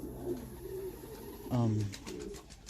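Pet homing pigeons in a loft give soft low coos, a few brief calls with one louder coo in the middle, heard close over faint background noise.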